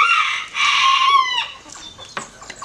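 Bantam chickens cluck and call loudly and close by, a burst of sharp, strident squawking that trails off into softer scattered clucks.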